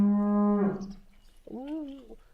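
A blue cow on a farm in Podlasie moos twice up close, first a long steady low bellow, then a shorter rising-and-falling call after a brief pause.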